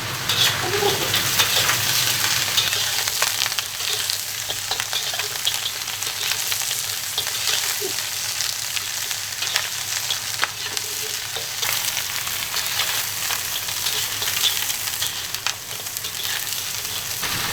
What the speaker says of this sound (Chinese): 油烧热，香料先下锅，牛排下锅